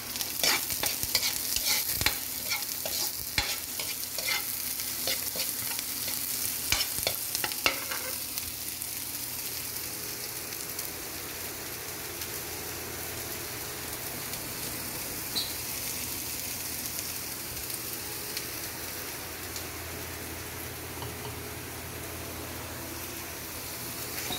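White onion sautés in a pan for a vegetable dish, a soft continuous sizzle with stirring scrapes and clinks that grow sparse after the first several seconds, fairly quiet and steady with no talking.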